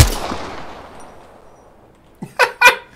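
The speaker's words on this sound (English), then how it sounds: "He's trying to shoot through the fucking window." Video game gunfire aimed through a window: a loud shot decays at the start, then after a quiet gap three sharp, close reports come in quick succession.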